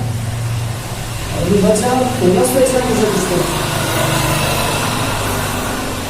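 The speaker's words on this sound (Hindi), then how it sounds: "साउंड ज्यादा हो गया गाड़ियों की" Traffic passing on a nearby road: steady engine drone and light engine whine from vehicles going by, with a teacher's voice talking over it throughout.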